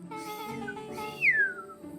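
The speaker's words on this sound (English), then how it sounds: "Out a low whistle" A low whistle sounds in the video game Beacon Pines, a single gliding tone that falls in pitch over soft background music, brief and clear.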